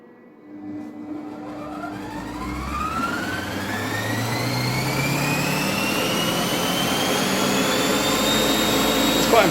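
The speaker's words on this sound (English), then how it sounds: "this is the fast spin part of the cleaning cycle" Monsieur Cuisine kitchen machine on the fast spin of its cleaning cycle, a loud whirring that climbs steadily in pitch as the motor speeds up and then holds a steady high whine.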